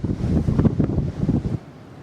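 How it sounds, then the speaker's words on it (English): Strong wind buffets the microphone on an exposed hilltop, a loud continuous broadband roar with gusting surges that drops away abruptly near the end. "Got that wind back there on that hill."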